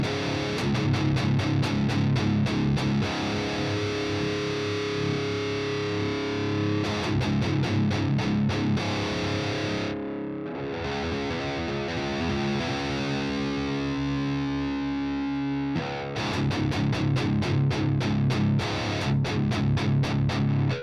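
Heavily distorted electric guitar played through an amp cabinet simulation, loud chugging palm-muted riffs in fast bursts with a sustained chord passage in the middle, alone without talk.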